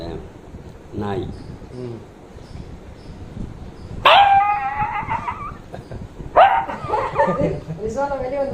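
Someone imitates a barking dog with a few loud, whining yelps and barks between quieter moments, close to the listener.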